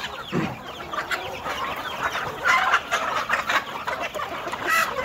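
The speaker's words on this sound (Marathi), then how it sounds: "माझ्या कोंबड्या आहे इतक्या कोंबड्या आहेत सध्या तरी" Several free-range village chickens cluck softly and repeatedly close by, with scattered overlapping calls against a quiet outdoor background.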